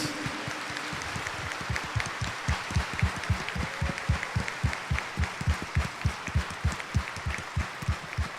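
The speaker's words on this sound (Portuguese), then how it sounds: "Dê uma salva de palmas para Jesus." A congregation at Sunday Mass claps together in a steady rhythm, roughly three to four beats a second, loud and even from start to finish.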